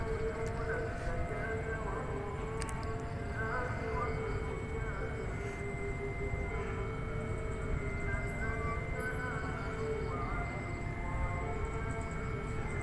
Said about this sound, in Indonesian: jam sekian ini kereta api Wijaya Kusuma datang ya